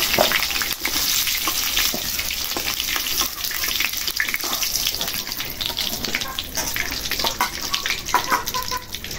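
Potatoes fry in hot oil until browned, a close, busy crackle and sizzle with scattered sharp pops and stirring clatter, continuing without pause.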